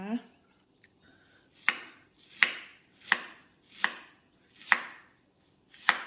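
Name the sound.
chopping ginger, shallots and herbs with knife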